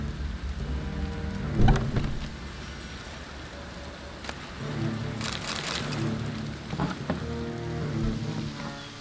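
Steady rain patters on surfaces in the video game Witcher 3 while thunder rumbles, with one loud crack early on and softer rolls later, and no talking.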